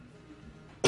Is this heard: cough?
yes